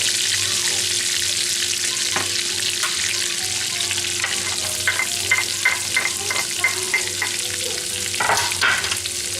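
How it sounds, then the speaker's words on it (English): Minced garlic sizzles in melted butter in a pan over low heat, a steady close frying hiss with occasional stirring scrapes and taps, and no talking. "I'm going to go ahead and put in the garlic."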